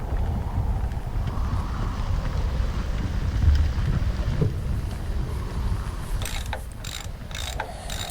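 A mechanism in the Torin's Passage adventure game being worked with a wrench, heard as a steady grinding, ratcheting mechanical whir that ends in a few sharp clanks, with no talk.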